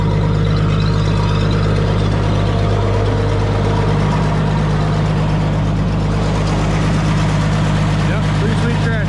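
An Allis-Chalmers D15 tractor engine idles steadily and loudly close by, a continuous low rumble with an even drone throughout, with faint speech mixed in at points.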